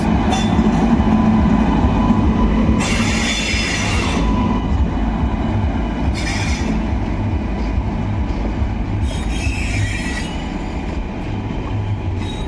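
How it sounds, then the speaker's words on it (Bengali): The Ganadevata Express from Howrah rolls into Azimganj Junction station close by with a loud, continuous rumble of coaches and wheels, and bursts of high wheel squeal come and go. "Howrah Azimganj Ganadevata express zero zero nine five Howrah আসছে"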